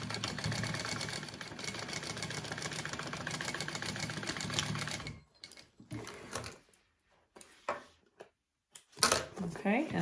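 A sewing machine runs steadily for about five seconds, stitching a second row along a bag, then stops; a few scattered handling noises and brief movements follow in the quiet.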